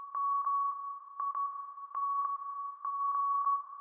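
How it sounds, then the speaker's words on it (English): Morse code beeps play alone: a steady single-pitch electronic tone keyed in short and long bursts, clean and moderately quiet. "We got more Morse code."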